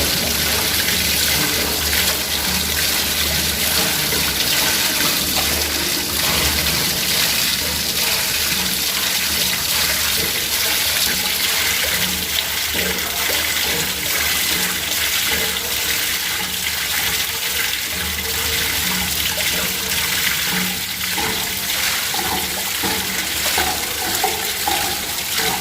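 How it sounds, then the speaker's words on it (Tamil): Water gushes steadily out of a pressure booster pump's air tank, a continuous loud splashing rush that holds for the whole stretch without any talk. "இப்போ எல்லா தண்ணியும் வெளியாகிடுச்சு."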